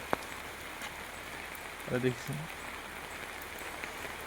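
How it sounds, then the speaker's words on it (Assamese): Steady morning rain pours onto a road in an even, close hiss, with a brief voice speaking partway through. "ইমান বৰষুণ দিছে আমনি লাগিছে বহি বহি"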